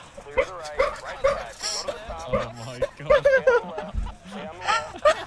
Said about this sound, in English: My dog is so loud.